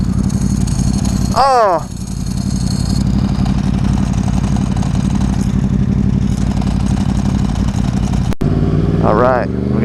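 A motorcycle riding along twisty roads, its engine droning loud and steady throughout with shifts in pitch as it accelerates, and a person briefly exclaiming over the noise.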